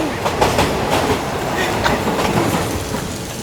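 A train rolls past close by on old tracks in Bangkok, its wheels clattering rhythmically on the rails in a loud, continuous rumble.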